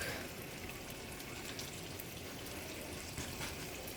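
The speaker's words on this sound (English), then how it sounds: "we're going to add in our 2 1/3 cups milk" Milk pours into a soup pot of loaded baked potato soup with bacon still cooking, a steady soft liquid stream running evenly throughout at low volume, with no voices.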